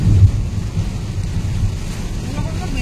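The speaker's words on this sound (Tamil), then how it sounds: "செம்ம மழை பெய்யுது" Heavy rain during a road trip in wet, windy weather, a steady, dense rumbling wash with wind buffeting the microphone throughout.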